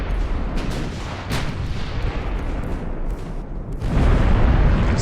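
Naval gunfire in the warship game Ultimate Admiral: Dreadnoughts, a steady rumbling wash of distant artillery with scattered sharper reports and a heavier swell of booms toward the end.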